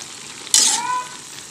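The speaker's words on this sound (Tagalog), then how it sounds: "haluin lang po natin" Breadfruit simmering in coconut milk in a pan is stirred, giving one short burst of scraping and sizzling about midway, with a faint bubbling simmer before and after.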